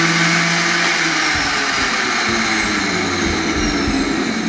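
An electric kitchen blender grinds peaches with water for juice, a loud, steady whirring roar close by that holds for several seconds without a break.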